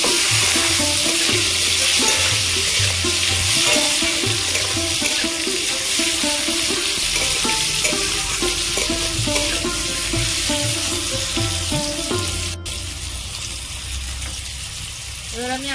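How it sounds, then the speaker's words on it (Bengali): Chopped tomatoes landing in hot oil with fried potatoes and onions in a pan for a cauliflower and fish curry, giving a steady close sizzle with stirring scrapes throughout, no talking. "এবার টমেটো কুচি দেব।"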